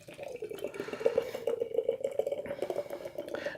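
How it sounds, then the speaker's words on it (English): BrewDog Choco Libre Nitro, a Mexican hot chocolate imperial stout, pours from a can into a glass with a close, gurgling, glugging stream that rises steadily in pitch, then briefly stops and restarts near the end. "let's give it a pour."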